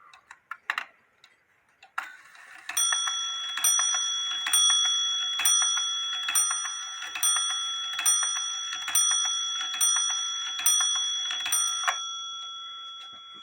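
A WUBA Dutch clock, just repaired, chimes in a steady run of about ten evenly spaced bright metallic strikes with long ringing overtones, following a few scattered clicks and ticks from the mechanism, close and clear.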